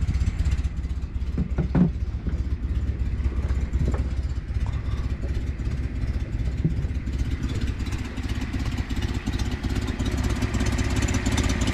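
A 1973 Datsun 240Z engine idling without choke outdoors, running rough with a steady low rumble and uneven clattery pulses, close and continuous, no talk.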